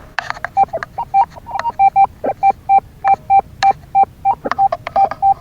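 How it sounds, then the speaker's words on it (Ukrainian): A Rutus Atrex metal detector, used while digging on New Year's Day near Dnipro, sounds a loud run of short electronic beeps, about twenty evenly repeated tones with brief crackles between them. "піймав непоганий сигнал. Дам послухати і будемо копати."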